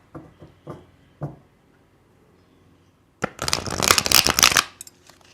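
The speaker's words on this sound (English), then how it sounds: "Let me just reshuffle my cards." A deck of tarot cards is riffle-shuffled up close, a long dense rush of flicking cards after a few soft taps and handling sounds, with no talking.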